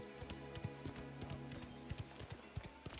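Horse hooves clip-clop at a steady walking pace near a stable in the video game Mafia: The Old Country, moderately loud over a low ambient hum with irregular strikes.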